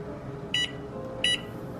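Kitchen timer used while steeping a homemade respiratory tea, giving two short, bright electronic beeps spaced under a second apart over a quiet room background.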